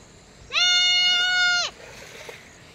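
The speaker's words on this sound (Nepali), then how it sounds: "उपर पनि कराउँदैछ बाख्रा" A single loud, drawn-out goat bleat, about a second long, close by over a quiet outdoor farm background near rice fields.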